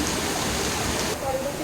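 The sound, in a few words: heavy rain falling outside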